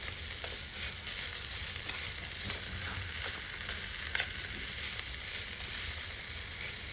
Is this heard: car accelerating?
no